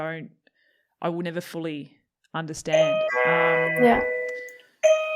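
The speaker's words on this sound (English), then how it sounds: "That's a doorbell." A two-tone doorbell chimes indoors during a podcast conversation, a sustained ringing tone lasting over a second amid ongoing speech.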